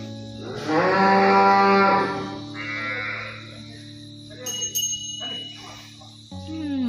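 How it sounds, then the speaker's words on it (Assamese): A young female calf lets out one long, loud moo close by, then a shorter, quieter call follows amid faint farmyard sounds. "খুব ধুনীয়া এজনী গাই পোৱালি দেখিছোঁ মই লৈ যাম কিউট মৰম লগা গাই পোৱালি"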